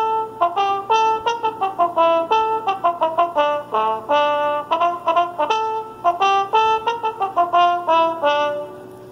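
Brassy trombones play a bouncy melody of short, punchy harmonized notes in a steady rhythm, close and loud with no voices over them.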